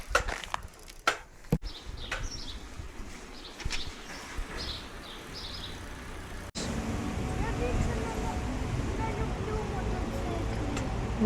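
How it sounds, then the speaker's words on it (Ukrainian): Loud engine noise from mopeds passing nearby, a steady roar following a stretch of scattered knocks and faint bird calls. "Так, мотоцикли дуже гучні. Вони лякають дуже, так? Ці. Ну це мопеди."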